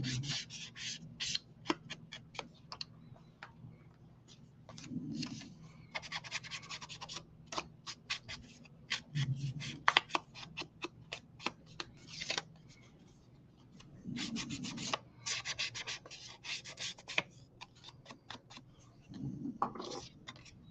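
Close scratchy rubbing strokes of an ink pad worked along paper card edges during card making, coming in repeated bursts with short pauses between passes, fairly quiet and with no talk.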